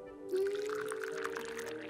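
Water poured into a cup in the video game Lost In Play, a short steady trickling pour with a rising tone, clear and close.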